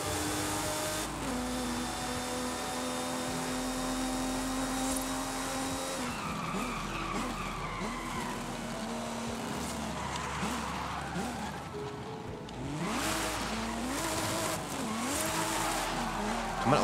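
A BMW E36 M3 driven in the racing game Forza Horizon 5, its engine droning and revving while tires squeal and skid repeatedly through drifting turns, sustained and fairly loud throughout.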